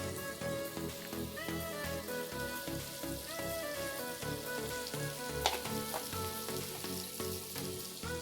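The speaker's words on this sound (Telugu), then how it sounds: "ఉల్లిపాయ రెండు ఒక ఫైవ్ టు సిక్స్ మినిట్స్ బాగా వేగాలండి" Onions sizzle steadily in a pan for a Spanish omelette, a continuous close frying hiss with faint stirring and soft background music tones, no voices.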